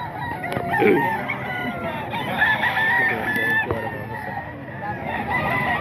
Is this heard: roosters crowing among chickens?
yes